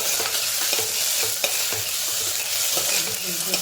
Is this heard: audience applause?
no